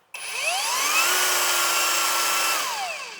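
A battery-powered Lucid LY 8500 Gen 3 angle grinder set to speed 2 switches on with a rising whine, holds a steady high-pitched motor hum up close, then begins to wind down near the end.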